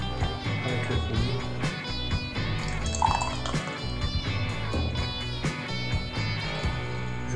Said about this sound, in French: je viens maintenant remplir le bocal